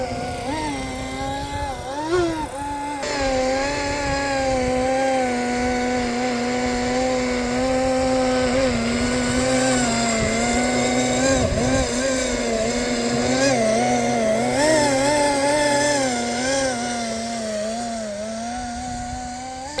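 A Roban 470 WZ-10 RC helicopter hovers in gusty wind, its rotors and motor giving a loud, continuous buzzing whine that wavers in pitch as it fights the wind, with no talking.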